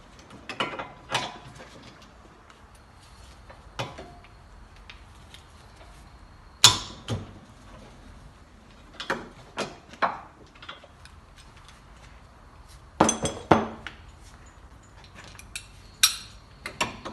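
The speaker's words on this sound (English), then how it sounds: "Ratchet." Ratchet wrench working the 17 mm hub bearing bolts loose on a 2004 Nissan 350Z, heard as scattered clicking bursts and sharp metallic clacks with quiet gaps between them, close and moderately loud.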